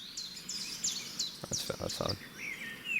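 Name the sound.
bird sound effects in a song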